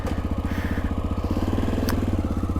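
A Honda XR650L single-cylinder motorcycle idles close by on a cool morning, its engine thumping in a fast, even, steady pulse with a brief faint click partway through.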